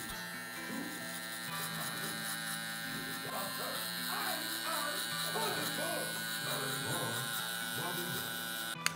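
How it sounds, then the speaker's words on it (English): A LoProFX hair trimmer cuts hair, giving a steady, close electric buzz with a strong hum that runs throughout while someone talks over it. "We're gonna use a trimmer to take that hair off."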